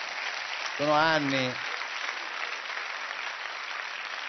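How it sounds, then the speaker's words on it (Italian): Studio audience applause at an Italian TV comedy show greeting the guest Floris, a broad steady wash of clapping running throughout, with a voice speaking briefly over it near the start. "fate un applauso a Floris"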